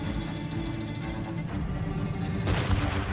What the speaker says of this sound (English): Ready to fire, sir! Brace for impact!